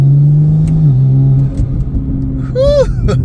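A BMW M3 fitted with a Valvetronic exhaust roars loudly up close, its engine note holding steady then dropping, followed by a rising whistle as the turbo spools.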